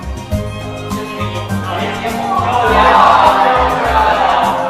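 A crowd of students whooping and heckling, a noisy mass of overlapping voices that swells louder toward the middle and stays dense to the end.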